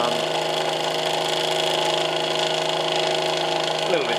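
Bedini energizer motor built from timber, running on a straight 12-volt supply with no switching, gives off a steady, close, even hum with a buzzy whine layered over it. The hum holds constant throughout with no talk.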